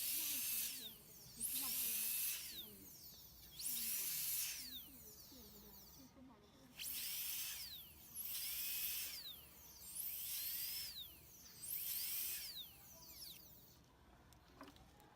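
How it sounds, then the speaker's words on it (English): A high-pitched dental drill fitted with a tapering 169L burr whines in repeated bursts about two seconds long as it cuts thin tooth structure at the margins of a Class II preparation, spinning up and down between pauses. "I'm taking a tapering burr 169L burr to try to remove the thin amount of tooth structure"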